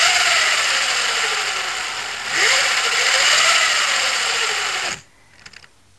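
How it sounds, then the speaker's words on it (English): Chain drive on a DIY electric mountainboard running, a steady whirring motor whine with chain rattle that rises in pitch, dips and rises again, then stops abruptly, leaving faint clicks. "right now I will show you the sound of my chain"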